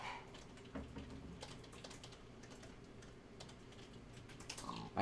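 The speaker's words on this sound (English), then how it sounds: "I hear vigorous typing" Vigorous typing on computer keyboards at a LAN party, rapid irregular clicks and clatter at fairly low volume, continuing throughout without talk.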